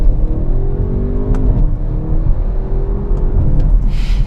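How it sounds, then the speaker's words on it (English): An Audi RS6 Avant V8 with quattro all-wheel drive pulls hard in first gear, its engine note rising in a loud, continuous rumbling climb from inside the car, steady throughout with no talking. "let's give it a boot here in first gear"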